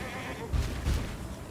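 Goat-like bleats from the video game Path of Exile, two short bursts close together over a steady buzzing in-game ambience, moderately loud with no voices.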